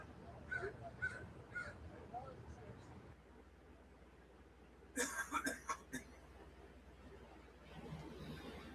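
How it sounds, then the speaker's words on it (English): Several harsh caws from crows ring out in a quick burst partway through, moderately distant, over a steady outdoor hum with faint background sounds. "I hear crows in the background."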